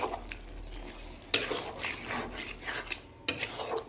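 Mutton masala is stir-fried in a pot with a low, soft sizzle under the scraping and knocking of a spoon against metal, with two sharper clatters standing out.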